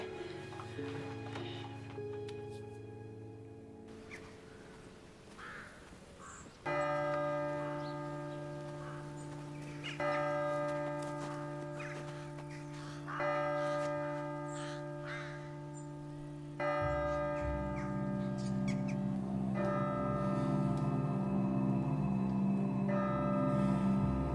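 A large bell rings out in a period drama household, its sustained tolling strikes repeating every few seconds, loud and resonant, with a low hum underneath and no speech.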